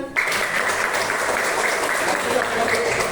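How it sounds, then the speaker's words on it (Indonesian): Children in an elementary school classroom clap together in a dense, steady burst of applause that lasts a few seconds, close and fairly loud with room echo. "Tepuk tangan."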